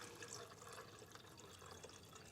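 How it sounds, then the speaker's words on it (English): Water pours steadily into a 1.2-litre Havells Aqua Plus black electric kettle, a continuous close splashing fill with no talk over it. "Fill it up with water."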